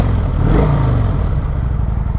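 A 2021 Kawasaki Vulcan 900 motorcycle's exhaust putters steadily at close range, a low, even engine rumble with no voices over it.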